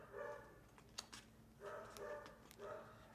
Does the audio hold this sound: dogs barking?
yes